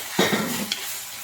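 Green chillies and tomatoes hitting a hot pan for a shrimp theeyal curry: a sudden sizzle with a spoon scraping and stirring, then a brief clink, close and moderately loud, short and without talk.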